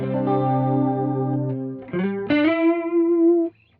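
A guitar run through a stereo chorus effect on a Neural DSP Quad Cortex: a sustained shimmering chord, then a couple of short slides into a new held note, played alone with no talking.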